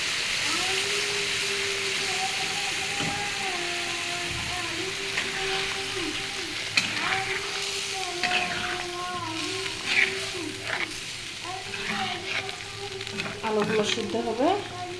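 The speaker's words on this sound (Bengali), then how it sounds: "পানিটা গরম করে দিচ্ছি।" Water heating in a pan over frying potatoes for a beef curry, a constant hiss and sizzle with repeated utensil scrapes and clinks, growing busier toward the end.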